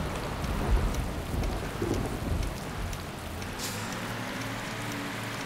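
Steady rain falls in the bus-driving video game Bus Driver, a continuous hiss of drops on surfaces with low rumbling underneath, moderately quiet and uninterrupted.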